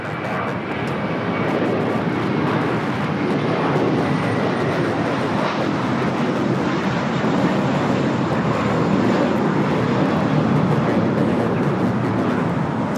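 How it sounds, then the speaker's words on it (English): JetBlue Airbus A321 taking off from LAX, a sustained broad jet roar that builds slightly and holds steady for several seconds, heard from a distance without speech. "That is JetBlue, flight 1200, taking off to Fort Lauderdale on the A321."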